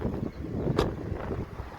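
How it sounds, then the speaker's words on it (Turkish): Steady rumbling wind buffeting a microphone during an outdoor look at a new Skoda Scala car, with a brief stronger gust near the middle; no voices. "Biraz rüzgar var kusura bakmayın"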